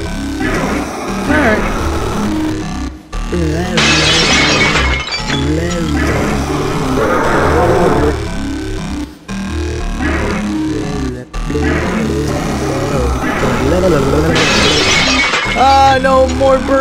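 Loud glass shattering and breaking in a video game, several crashing bursts with tinkling debris recurring through the clip, heard under continuous talking and game sounds.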